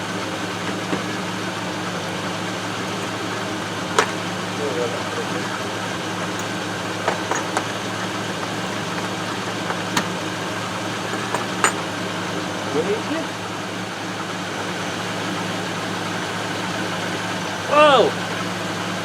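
A Range Rover engine with low fuel pressure idles steadily as a continuous low hum, with a few faint clicks and knocks scattered on top and a brief voice near the end.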